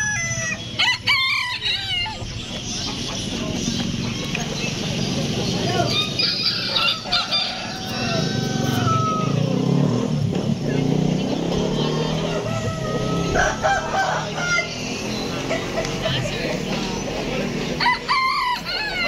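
Silkie chickens and other fowl at a chicken expo, with continuous clucking, squawks and occasional crowing amid a busy, noisy crowd and background chatter.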